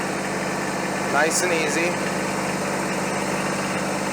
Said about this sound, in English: Now we're going to drive into our loader here.